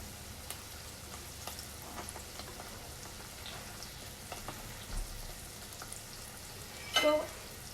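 Tofu pieces fry in a pan of oil with a faint, steady sizzle and scattered small pops, quiet and continuous, with a slightly louder crackle flaring near the end.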